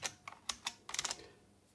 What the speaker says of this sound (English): All the keys are in place and the sound is really nice.